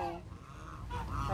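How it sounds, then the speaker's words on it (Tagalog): A loud, honking peacock call rings out twice, nasal and drawn out, close by with no talk, at Paradizoo in Tagaytay. "Ay, peacock!"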